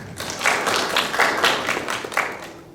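An audience at a Korean academic conference session applauds a professor about to present on wastewater treatment: a dense, steady burst of many hands clapping, loud and close, filling the whole stretch without talk.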